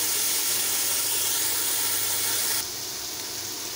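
Sliced onions fry in hot oil for kala chana masala with a steady, dense sizzling hiss. The sizzle drops slightly in level partway through and continues without any talk.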